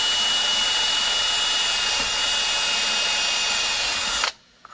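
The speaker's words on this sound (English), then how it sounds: "So go ahead and drill that. And that is with the 7/32 bit." Power drill boring through a dual magazine carrier clamped in a jig with a 7/32 bit, a loud steady high-pitched whine running continuously before cutting off abruptly near the end.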